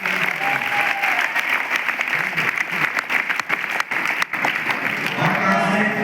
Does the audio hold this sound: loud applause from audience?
yes